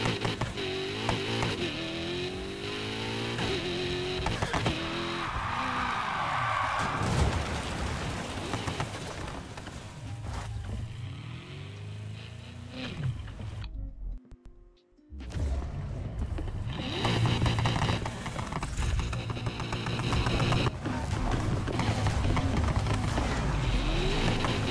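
A BMW M3 E46 races in Need for Speed Heat, its engine roaring steadily with rising and falling revs for the whole stretch, cut by a brief near-silent break partway through.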